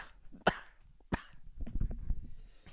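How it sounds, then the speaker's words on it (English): Two sharp, close coughs aimed straight into a microphone, a loud burst followed by a second one, then muffled rustling and low background noise, at a 4/20 podcast set with a fog machine running. "cough directly into the mic"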